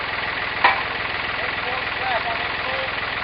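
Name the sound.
tractor engine running on site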